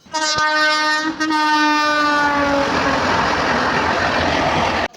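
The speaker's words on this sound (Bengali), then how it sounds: "তোমরা দেখতেই পাবে ট্রেন আসছে" An arriving train sounds a long, loud horn blast with strong harmonics that fades into the rumble and clatter of rolling wagons passing close by.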